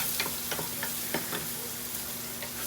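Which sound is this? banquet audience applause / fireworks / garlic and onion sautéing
garlic and onion sautéing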